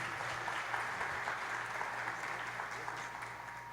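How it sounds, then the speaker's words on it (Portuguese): Church seminar audience applauding a pastor, a steady dense wash of clapping from many hands at moderate level for the whole stretch, with no break. "Vamos aplaudir o pastor, por favor."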